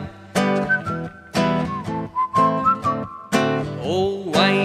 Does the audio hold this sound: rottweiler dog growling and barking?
no